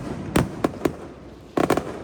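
Fireworks at a Notre-Dame de l'Assomption celebration in Guillaumes go off in sharp cracks: a few spaced bangs, then a quick cluster of bursts, moderately distant over a quiet background.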